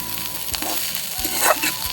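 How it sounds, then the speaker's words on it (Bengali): Bitter gourd and potato pieces fry in a pan over a home stove, giving a steady close sizzle with faint stirring scrapes and no speech. "এখন আমি করলা আলু ভাজা করছি।"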